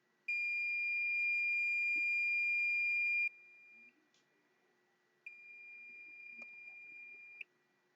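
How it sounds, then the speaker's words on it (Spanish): A multimeter in continuity mode gives a steady high-pitched electronic tone for about three seconds, stops, then sounds again for roughly two more seconds. Quiet and isolated, with faint handling noise between the tones. "Espero que se alcance a apreciar el bip."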